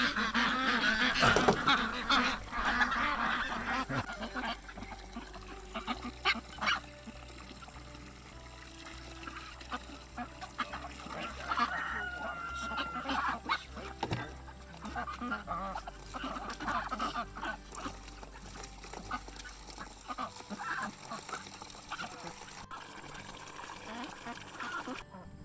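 Ducks, geese and chickens on a farm quack and honk in scattered bursts near and far, with occasional water splashing and a person talking between the calls.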